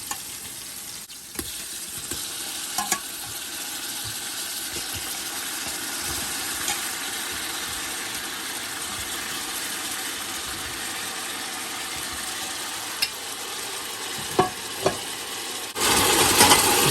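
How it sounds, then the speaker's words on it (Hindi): Tender veal, cooked soft in an Instant Pot, stir-fries with garlic in a pot, giving a continuous loud sizzle over many seconds with a few scattered clinks of stirring and no talk. "2 मिनट के बाद हमारा गोश्त जो है वो स्टर फ्राई हो चुका है"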